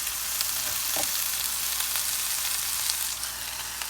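Spinach and mushrooms sizzle steadily in a hot pan for an omelette, a constant close frying hiss with faint crackles throughout and no voices.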